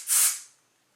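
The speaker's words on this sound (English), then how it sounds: "This is the Kenra dry texture spray." A single short burst of Kenra dry texture spray misted onto hair, a close, bright hiss that swells quickly and fades away within half a second, with no talking.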